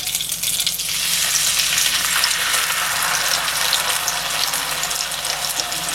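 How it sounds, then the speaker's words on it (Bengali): Spice paste hitting hot tempering oil for a bhetki fish curry, rising into a loud, dense, continuous sizzle and crackle that holds steady, close up. "এবার এই পেস্টটা এই ফোড়ন গরম হলেই দিয়ে দেবো"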